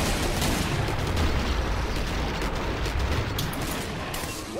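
Grenades burst in the Killing Floor video game during a Hell on Earth match on the Manor map, a dense, continuous roar of blasts and gunfire filling the whole stretch, loud and close, with no speech.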